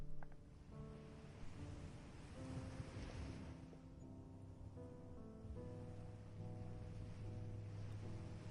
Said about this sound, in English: the waves crash with a bit more power than usual